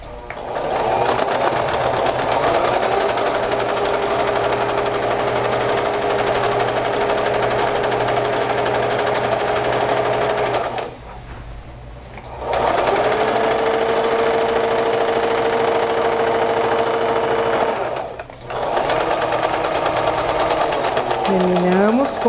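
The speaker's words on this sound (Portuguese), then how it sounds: "com a medida de pé de máquina, nós vamos começar com o retrocesso, terminar com o retrocesso, passando a costura reta na extensão inteira." A domestic sewing machine runs a straight seam along fabric with backstitching at the start and end, a steady close motor hum and needle chatter that stops briefly twice before resuming.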